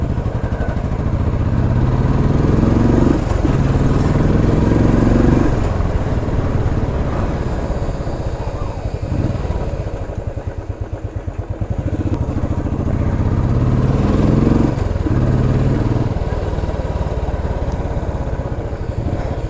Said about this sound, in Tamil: Silencer sound.